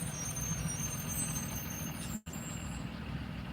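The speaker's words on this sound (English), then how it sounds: "why these buses up here early" A city bus engine rumbling steadily at close range with a high hiss above it, cut by a sudden brief air-brake release near the middle before the rumble resumes.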